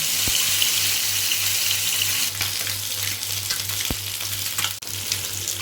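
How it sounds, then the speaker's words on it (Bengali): Pieces of rohu fish frying in hot oil in a pan, a dense continuous sizzle with a few sharp spatters and clinks, steady and close, with no talk. "এবারে মাছগুলো ভেজে নিচ্ছি"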